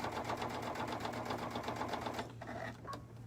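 A sewing machine runs a lock stitch along a fabric edge of a soft block, a fast rhythmic motor chatter that stops abruptly after about two seconds, followed by a couple of soft clicks, close and quiet, with no speech.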